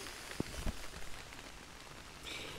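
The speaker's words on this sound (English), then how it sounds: "It is raining." Rain falling steadily during storm camping in France, a soft broadband patter throughout with a couple of brief louder drops near the start; no voices.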